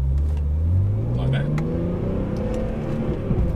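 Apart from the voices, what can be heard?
BMW M3 E46 car pulling away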